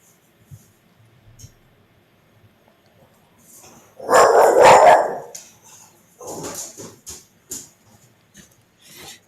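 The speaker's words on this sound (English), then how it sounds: "Dogs are going crazy." Several dogs bark in a loud, dense burst partway through, followed by scattered shorter barks and yips, with quiet room sound before.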